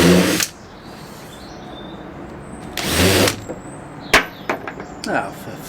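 DeWalt power drill countersinking pilot holes in wood, two short loud bursts of drilling with quiet gaps and a few clicks and knocks between them, close by and without talking over the drilling.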